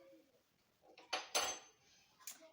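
A spoon clinks and scrapes against a bowl while face mask powder is stirred with water, giving two or three brief, bright scraping strokes and a final tap against near silence.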